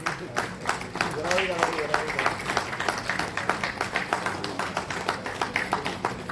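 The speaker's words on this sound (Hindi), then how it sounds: "तालियां बजती रहे साथियों।" An audience claps at a journalists' association state meeting in Raipur, a steady rhythmic patter of hands with a speaker's voice faintly under it.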